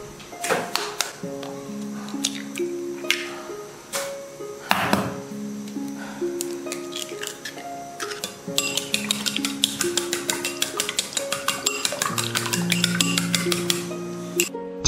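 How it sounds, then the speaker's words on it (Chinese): Three eggs are beaten in a bowl with quick, sharp taps and clinks that speed into a steady, dense whisking rhythm near the end, over soft background music. "碗中倒入3个鸡蛋搅散"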